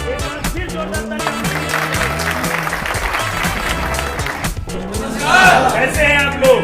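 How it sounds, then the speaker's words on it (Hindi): Village audience clapping loudly at a rural gathering of women, men and young people, a dense sustained wash of applause running throughout and swelling near the end, with some voices mixed in. "एक बार फिर जोरदार तालियां।"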